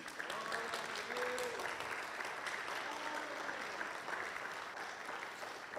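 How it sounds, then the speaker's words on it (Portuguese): A church youth congregation applauds continuously, a dense wash of clapping with a few faint voices rising through it. "Você pode aplaudir ao Senhor por isso?"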